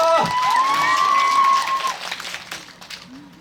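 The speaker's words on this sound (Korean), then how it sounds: "큰 박수 한번" A live audience at a concert applauds and cheers, with steady clapping and shouts that swell early and then taper off into scattered claps.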